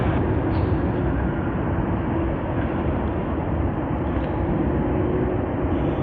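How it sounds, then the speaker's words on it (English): An Airbus A380-800 airliner vacates the runway at Sydney Airport, giving a steady, loud broadband roar of jet engines that holds constant throughout with no talk. "Airbus A380-800, vacating the runway"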